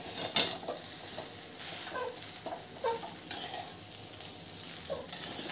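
Masala powder and salt being stirred into vegetable rice in a pan, with soft scraping strokes of a spoon against the pan and a light sizzle, a few sharper clinks of metal, fairly quiet and close.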